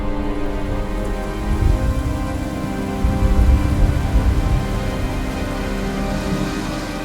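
Steady rain falls along the Irtysh River in Kazakhstan, a dense, even patter on surfaces that swells slightly midway and keeps up throughout with no voices.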